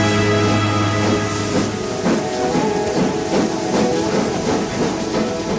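Nilgiri Mountain Railway toy train, a steam-hauled hill railway, sounding as a steady loud hissing, chuffing rumble with a long tonal whistle-like hum early on, continuous and close with no voices.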